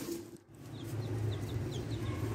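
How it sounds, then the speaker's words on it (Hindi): Chickens cluck softly in a series of short, evenly spaced calls over a steady low background hum. "जैन को बहुत शौक है घर में मुर्गियाँ, चूसे, कबूतर और बटेर रखने का"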